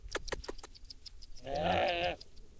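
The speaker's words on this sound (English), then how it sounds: "here are the sheep coming" Sheep and goats after deworming coming in for treats, with footsteps and rustling followed by one clear, close bleat lasting under a second.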